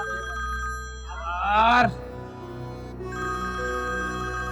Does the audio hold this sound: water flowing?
no